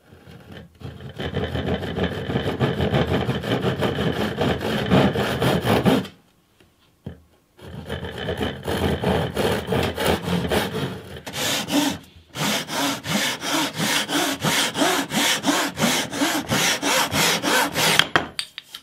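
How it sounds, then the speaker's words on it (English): A Japanese pull saw trims the end of a wooden bass guitar neck flush against its binding, making steady rasping strokes, loud and close, in three long runs broken by brief pauses. "I'm just going to trim the excess off the end of the neck here, right against that binding."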